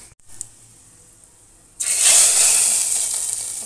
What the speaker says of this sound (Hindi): लहसुन का मैं तड़का लगा रही हूँ